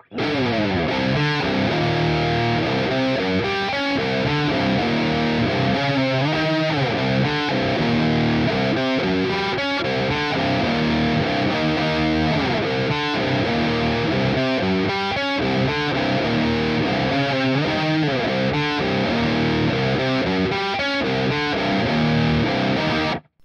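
A heavily distorted electric guitar riff in drop C tuning, through a Neural DSP Archetype Petrucci amp model, plays loud and continuous with dense palm-muted chugging and no voices.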